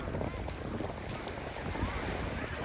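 Steady wind buffets the microphone outdoors at Manza Beach, Okinawa, a continuous rushing roar with faint waves underneath.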